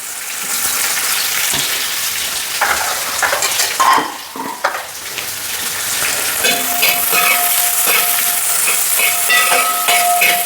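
Four onions tipped into hot oil in a pan for a crab roast, a steady loud sizzle with stirring clatter that grows denser and hissier after the onions go in, close and with no voices.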